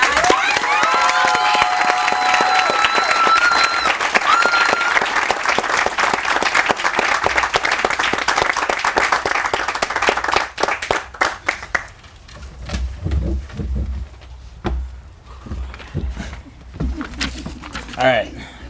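At a high school graduation, a large audience applauds and cheers loudly and steadily for a graduate speaker, with whoops and shouts over the clapping, before it thins out and a voice speaks over a microphone.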